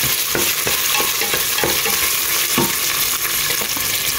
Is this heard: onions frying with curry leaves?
yes